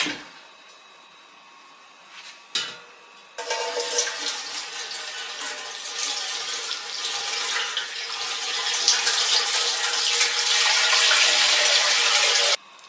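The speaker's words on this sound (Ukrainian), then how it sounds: "І заливаємо воду." Water pours steadily for several seconds into an autoclave for canning crucian carp in oil, a continuous bright splashing rush that grows slightly fuller as the vessel fills, after a few soft clinks.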